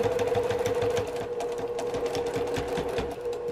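A sewing machine runs steadily, finishing the raw edge of fabric for a zippy travel bag, its rapid even motor hum and needle chatter close and continuous for the whole stretch with no talking.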